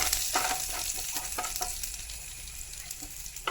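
Dried chilies frying in hot oil for kappa puzhukku (tapioca dish), a steady busy sizzle with a few sharper crackles and spatter pops, close and fairly loud throughout, no voices.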